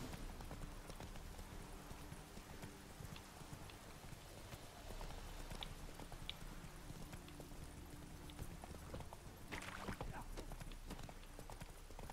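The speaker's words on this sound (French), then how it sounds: "Jolis chevaux." Horses' hooves clip-clop steadily in The Witcher 3 video game, a quiet, even rhythm of hoof strikes continuing throughout over soft ambient game sound.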